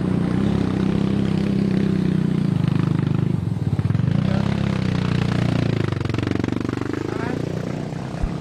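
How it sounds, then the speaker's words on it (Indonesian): Several motorcycles climb a hillside trekking trail with a steady, loud engine drone throughout, rising and falling as they pass nearby. "Jadi tadi ada beberapa motor naik"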